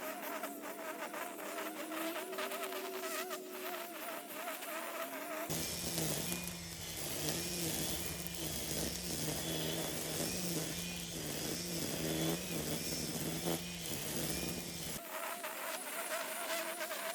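A lawn mower's small engine starts up for yard work, roaring loud and steady up close for several seconds before cutting off, with quieter background sound on either side.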